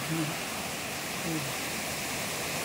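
Arangin Falls in Baliti roars as a steady, dense wash of falling water, continuous and loud, with brief voices talking over it near the start.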